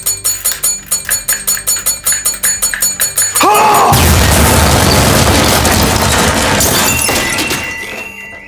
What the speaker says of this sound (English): Gustavo Fring is killed in the explosion